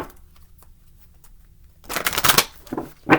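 Tarot cards shuffled by hand, a quiet stretch giving way to a loud, close riffling burst and a couple of shorter flutters at the end.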